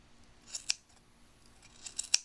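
Sharp scissors snip through the loose yarn ends of a tassel in a few quick, close, crisp cuts: a pair near the start and a tighter cluster near the end, with no talking.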